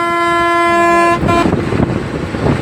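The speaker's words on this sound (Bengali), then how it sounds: "এই যে দেখো আমি স্টেশনে এসে পৌঁছেও গিয়েছি। এখানে একটা ট্রেন আছে" At a railway station, a train sounds a loud, sustained horn blast for just over a second, followed by rumbling engine and platform noise close by.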